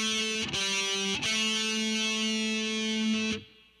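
A slow heavy metal lick on distorted electric guitar in A pentatonic minor, a few sustained notes changing twice with short picking gaps, then cut off sharply after about three seconds.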